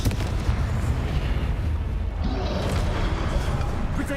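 Booming, crackling blasts from the Confringo explosion spell in Hogwarts Legacy fill the scene with dense, loud rumble, and fiery bursts keep layering on top of one another.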